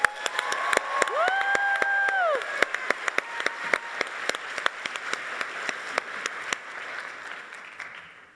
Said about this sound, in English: Can we give a huge round of applause for our sailor, Lauren?